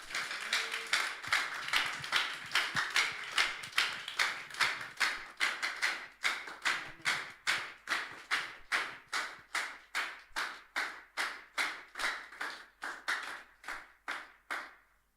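A church congregation at a Tuesday worship service claps to welcome the preacher, starting as dense, loose applause and settling into steady, evenly spaced rhythmic claps, close and clear with no talking.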